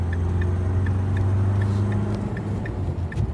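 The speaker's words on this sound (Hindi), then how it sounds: "जैसे मैं इसको अभी 3000 आरपीएम तक लेके गया और गियर शिफ्टिंग हमने करी तो अभी इतनी आवाज गाड़ी करती है।" Diesel engine of a Mahindra Scorpio N Z2 base model revving to about 3000 rpm and shifting gear, heard from inside the cabin as a steady, loud low drone with a faint regular ticking above it, no talk.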